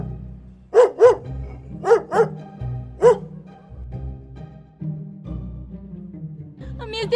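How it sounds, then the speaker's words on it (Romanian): A dog barks in short sharp bursts, a pair of barks and then a single one, loud and close, with quieter background noise and some movement between them. "Mi-este frică de Roi, ia-ți câinele de aici, ia-ți-l!"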